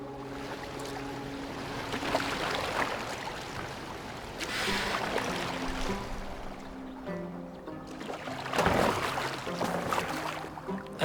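A boat moves across water in Assassin's Creed Valhalla, giving a steady wash and swirl of water that swells at times beneath sustained music.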